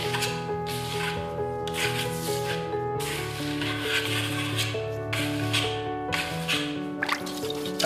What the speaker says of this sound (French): Puis lissez immédiatement à la lisseuse plastique en geste arrondi et en variant bien les angles